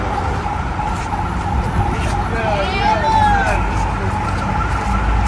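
A police car siren wails faintly in the distance under steady street noise and talk in Côte d'Ivoire.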